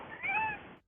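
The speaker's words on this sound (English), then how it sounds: "that's my cat meow" A house cat gives a single drawn-out meow, close and fairly clear, ending abruptly in silence.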